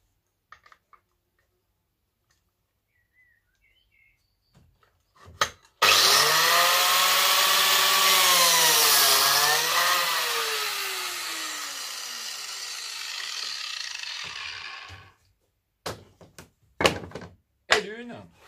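A Lamello Triton biscuit joiner spins up and cuts into a wooden board fitted with a small shim, giving a loud, steady whine with a slight pitch dip mid-cut, then stops, leaving a few clicks and knocks.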